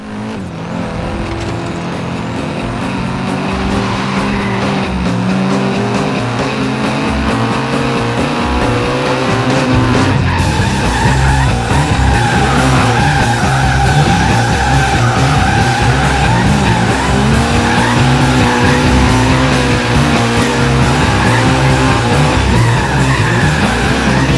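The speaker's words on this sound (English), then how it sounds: "So I'm going to get used to this car for a bit and do some drifts." A car drifts in the Forza Horizon 3 racing game with a modded, wider steering angle. A loud engine roars and the tires squeal without a break, rising in intensity partway through, with no talk.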